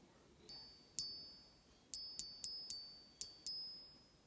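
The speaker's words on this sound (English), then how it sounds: "You can find a surface like this and then just gently tap the coin, and then you can hear the ping." A Canadian Maple Leaf gold coin is gently tapped on a hard surface about eight times, each strike giving a clear, bright ringing ping that decays quickly, with irregular pauses between taps over a faint background hum.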